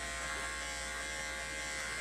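A steady, close electric buzz from an Andis 5-speed clipper with a #10 blade shaving a matted cockapoo's coat, running continuously without pause.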